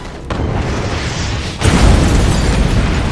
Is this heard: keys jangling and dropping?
no